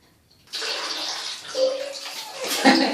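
A child splashes in improvised bath water, bursts of sloshing and splashing starting after a brief quiet moment, close and fairly loud, with a voice faintly heard among the splashes.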